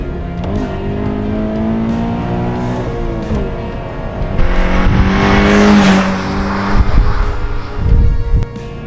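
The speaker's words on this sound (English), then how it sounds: "This car has a flat-4 2-liter boxer engine," A Subaru BRZ with a 2-liter flat-four boxer engine revs loudly, rising and falling through several throttle blips with a deep, throbbing exhaust note and a sharp surge near the end.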